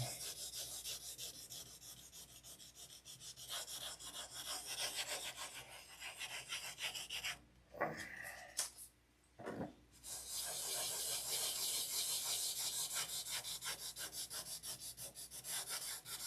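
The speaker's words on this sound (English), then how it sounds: "Sanding." Steady rasping of sandpaper rubbing over wood, continuous and close, broken by a couple of brief pauses midway.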